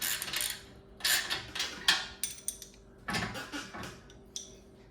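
Metallic clicks and ratcheting taps from a 14 mm socket tightening motor bolts on a JUKI DDL-8700 industrial sewing machine during assembly, coming in short close bursts with brief pauses between them and no talk.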